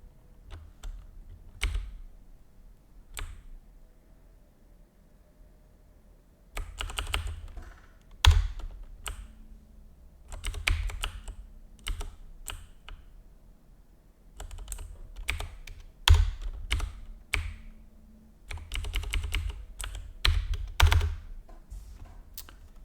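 R Markdown code being typed on a computer keyboard, with bursts of rapid close key clicks and taps separated by short pauses, some heavier thumps among the keystrokes.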